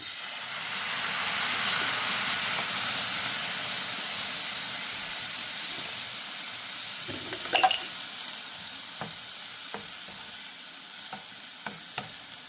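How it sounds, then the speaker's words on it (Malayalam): Vinegar hisses and sizzles steadily in a hot pan while making soya chunk pickle, a continuous bubbling boil with occasional clinks and scrapes of a utensil. "ഇനി വിനാഗിരി ഒന്ന് തിളച്ച് വരട്ടെ."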